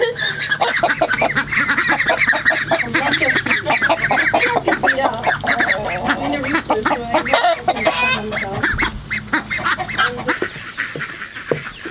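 Chickens cluck and squawk busily nearby in a continuous, noisy flurry of overlapping calls, with occasional voices mixed in.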